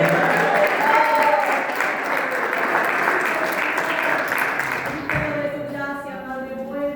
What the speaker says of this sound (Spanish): ¿Cuántos pueden dar unas palmas de alabanza al Señor?